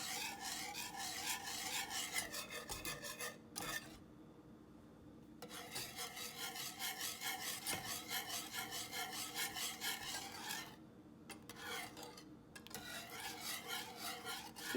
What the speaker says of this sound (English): go ahead and continue to whisk it